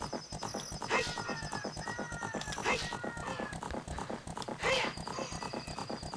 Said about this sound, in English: I could just let you enjoy this nice little horse galloping.